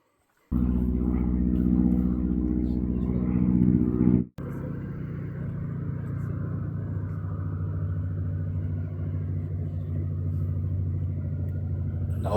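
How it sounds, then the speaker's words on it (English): A float plane comes in to land at a remote fishing cabin in Canada, heard as a steady, loud low engine drone that starts abruptly, dips for a moment, then continues evenly. "You hear the float plane coming in and it's time to go."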